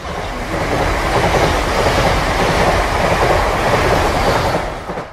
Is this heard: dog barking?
no